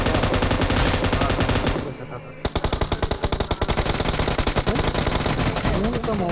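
Heavy, continuous machine-gun fire from a shooting video game, loud and close, with a brief dip before rapid bursts resume, mixed with dense game sound.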